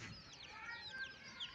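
Faint, quick clucking from a hen in a backyard, a few short chirpy calls scattered over quiet background noise.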